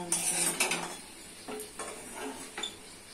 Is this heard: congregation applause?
no